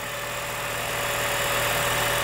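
Replacement engine in a restored Honda Element running smoothly at idle, a steady, even hum with a constant tone and broadband whir, close by and with no talk.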